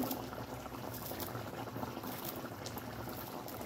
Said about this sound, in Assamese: এয়া মাছৰ জোলখিনি ভালদৰে উতলিছে মাছখিনিও ভালদৰে সিজিলে